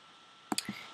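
A pair of quick, crisp mouse clicks on an on-screen interactive piano keyboard, close and dry, followed by a short soft tone in an otherwise quiet room.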